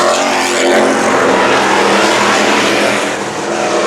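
Street stock race cars roar together at full throttle after a restart on an oval speedway, a dense, loud, continuous wall of engine noise with no pauses.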